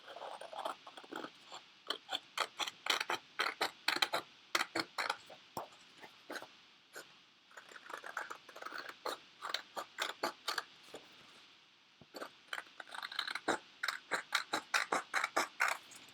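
Paper being cut out with scissors, a long run of quick, crisp snips coming in bursts with brief pauses, close and fairly quiet, with no talking.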